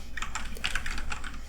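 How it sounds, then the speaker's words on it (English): Computer keyboard keys clatter in quick, close bursts of soft clicky strokes, typed steadily with brief pauses in a quiet setting. "I personally really like the sound of this particular keyboard"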